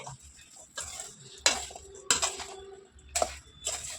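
Several separate bursts of a spoon scraping and mixing mango pickle in a bowl, spaced about a second apart, close and fairly quiet.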